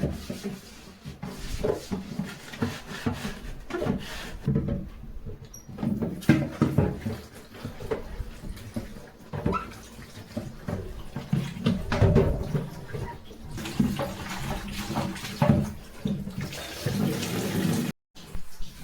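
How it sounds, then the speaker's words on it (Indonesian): A water storage container is scrubbed and washed, with irregular rubbing, sloshing water and knocks of the container close by, continuing for a long stretch without talking. "kita cuci untuk penampungan airnya juga"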